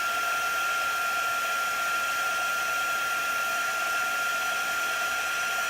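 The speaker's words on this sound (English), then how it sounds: "Let's dry that real quick." A hair dryer blows steadily and loudly to dry a chalk transfer on a box frame, a constant whooshing drone with no pauses.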